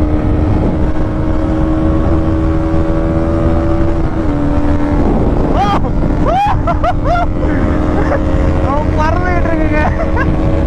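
Yamaha R15 V3 motorcycle with a modified exhaust drag racing a Bajaj NS200, loud sustained engine drone with rising revs and shifts, while an excited voice talks over it.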